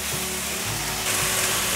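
Steady hiss of stir-frying in a pan with snow-white mushrooms, close and continuous, getting a bit louder toward the end as the mixing goes on.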